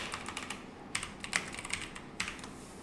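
Code being typed on a computer keyboard: quick, irregular bursts of close key clacks with short pauses between, no voice heard.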